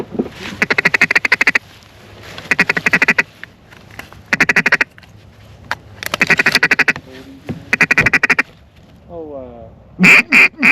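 Ducks quacking in repeated bursts of rapid calls during a duck hunt in Montana, fairly close and loud, with short pauses between volleys and a louder honk-like call near the end.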